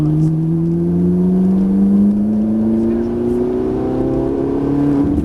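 A Ferrari 458 Italia engine revs steadily upward in pitch, a loud continuous drone climbing as the car accelerates from inside the cabin.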